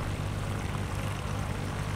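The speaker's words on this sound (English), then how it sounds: "The seaplane touches down on the water." A propeller-driven seaplane comes in to land on a lake. Its engine gives a steady, loud droning hum that holds evenly through the whole moment, with no voices over it.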